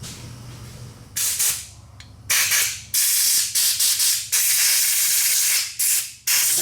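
Compressed air blasting through a motorcycle carburetor in short loud bursts, a quiet pause, then a run of rapid close hisses and one longer sustained blast.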